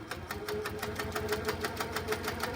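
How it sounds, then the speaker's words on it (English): Steady, rapid mechanical chatter of a sewing machine stitching around a quilted Christmas bauble motif, even and continuous throughout, moderately quiet and close. "I'm going to stitch my way around the bauble"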